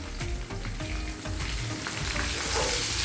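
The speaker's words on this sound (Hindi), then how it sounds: "इसे हम 1 मिनट तक इसके साथ फ्राई कर लेंगे" Steady sizzling and crackling of crushed ginger frying in hot oil with browned onion and garlic, with occasional stirring scrapes, close and continuous without any voices.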